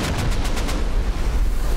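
Rapid burst of gunfire in a shooter video game, roughly six quick, sharp shots packed into the first second, followed by a dense, loud low rumble of continuing battle noise.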